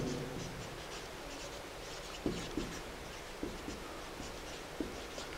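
A marker or chalk writes a math equation on a board: quiet scratchy strokes punctuated by light taps, close and alone with no talking.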